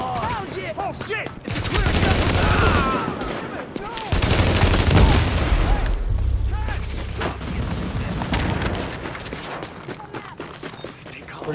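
Video game gunfire in The Division rattles in dense, loud bursts of rapid shots and mechanical clatter, broken by short pauses, with voices talking over the shooting.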